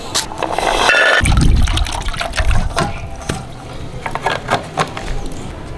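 Water is poured over keora fruit to soak it, a close, splashing gush that settles into uneven trickling and light knocks.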